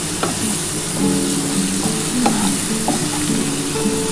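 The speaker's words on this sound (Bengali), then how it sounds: "এই পেঁয়াজটা দিয়ে দিচ্ছি। এই পেঁয়াজটা দিয়ে দিলাম।" Chopped onion fries in fish oil with a steady sizzle, broken by a few soft scrapes and stirring knocks from a utensil.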